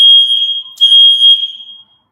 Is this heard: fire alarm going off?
yes